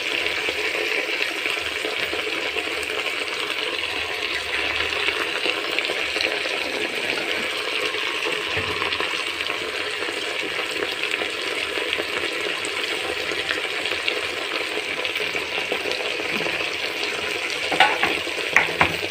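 Assamese lai xaak khar made with mustard greens is stirred in a pan, giving a steady scraping and soft sizzle throughout, with a few louder clinks near the end and no talk.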